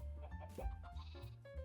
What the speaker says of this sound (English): and some sheep,